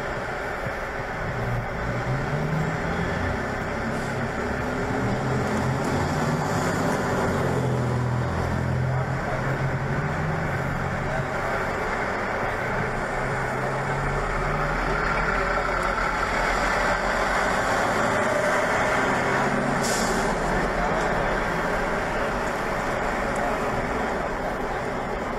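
Heavy trucks idle and roll past on a road, a steady low engine rumble filling the whole stretch, loud and continuous with a swell of passing traffic midway and faint talk underneath.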